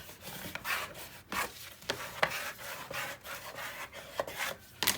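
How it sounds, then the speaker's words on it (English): A burnishing tool is rubbed over paper in repeated short, quiet strokes, each a soft dry scrape in an irregular rhythm, with no voices. "we're going to burnish"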